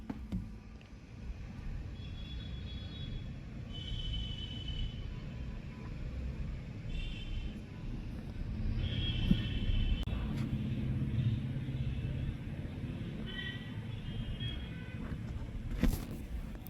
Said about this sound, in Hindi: गाइस हवा इतनी तेज़ है, आंधी इतनी तेज़ है